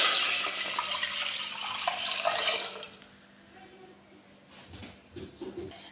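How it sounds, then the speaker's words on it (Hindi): Milk pours into a pan in a continuous close splashing stream for a few seconds, then stops, leaving faint kitchen clatter and handling sounds. "अब हम इसमें दूध डाल देंगे।"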